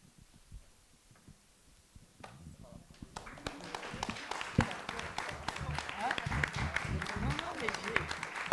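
An audience at a talk on lesbian parenthood breaks into applause, which starts faint with scattered claps and swells after a few seconds into steady, dense clapping in a room.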